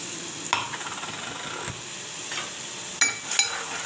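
Onion paste frying in oil in a pot, giving a soft, steady sizzle with a few brief scraping stirs, fairly faint and close, with no voices.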